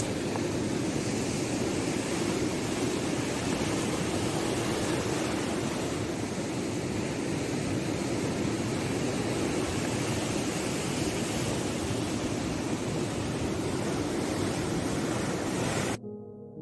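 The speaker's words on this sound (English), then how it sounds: "Thank you for the ocean sounds." Steady ocean surf washes continuously at an even, fairly loud level, a broad roar of breaking waves with no talk, cutting off abruptly near the end.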